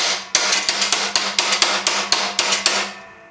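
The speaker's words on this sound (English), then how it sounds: "Let me take it out and tap it with the hammer." A hammer strikes metal on a Honda Elite 250 scooter in a quick, steady series of about a dozen ringing taps, close and loud, with no voices.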